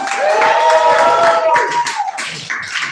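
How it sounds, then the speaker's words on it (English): Applause and cheering from a comedy show audience for an improv troupe taking the stage, loud and continuous at first, then thinning into scattered claps with voices and whoops mixed in. "let's give a big round of applause for Eclipse of the Titans"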